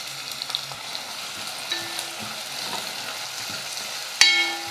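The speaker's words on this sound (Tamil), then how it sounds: "ஒரு பெரிய வெங்காயம் எடுத்து பொடியாக நறுக்கி எடுத்துக்கிட்டால் அந்த வெங்காயம் சேர்த்துக்கலாம்." Chopped onion frying in hot oil with garlic in a pan, with a steady low sizzle and occasional scrapes and clinks from a spoon stirring, ending in a louder clatter; no voices.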